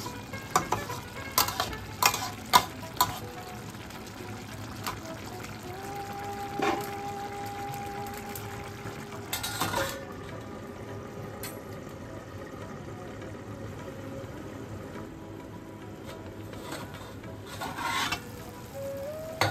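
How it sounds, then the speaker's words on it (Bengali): Pulao with stuffed pointed gourd being gently stirred in a covered pot. There are soft scraping and rubbing strokes over a low cooking hiss, with a few louder clatters early on and then quieter stretches. "মাঝে একবার ঢাকাটা খুলে আমরা হালকা হাতে নাড়াচাড়া করে দিচ্ছি।"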